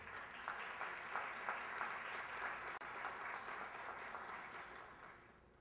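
An audience at a formal awards ceremony honoring women breaks into sustained, even applause, a dense wash of many hands at a moderate distance with no voices over it.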